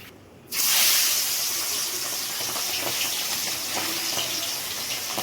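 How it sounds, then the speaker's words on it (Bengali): Prawns coated with salt and turmeric fry in hot oil in a wok, a steady broadband sizzle and hiss that begins suddenly and stays fairly loud and even, with no one talking. "তেলটা গরম হওয়ার পর প্রথমে মাছগুলো ভেজে নেওয়া হচ্ছে"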